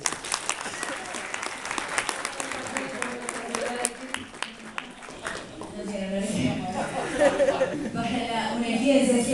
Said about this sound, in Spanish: un aplauso para Belén.